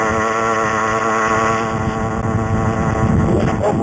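A CAG 49cc pocket bike with its stock exhaust runs at half throttle, giving a steady, buzzing small-engine drone heard up close without interruption.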